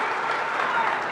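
Crowd at a BJP political rally in Nalasopara, Vasai-Virar, applauding in a dense, steady wash of clapping that holds at an even level throughout.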